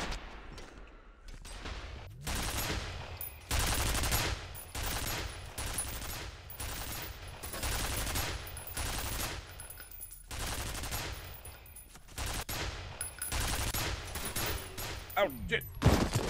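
Automated sentry gun turret firing in a video game, bursts of rapid gunfire repeating across the stretch in uneven volleys, loud and dense, with occasional voices underneath.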